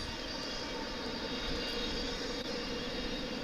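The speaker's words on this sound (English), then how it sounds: "that aircraft has now landed safely here at DFW" An airliner landing at DFW International Airport after a long Pacific flight produces a steady, broad jet engine roar throughout, constant in level and fairly distant, with no voices.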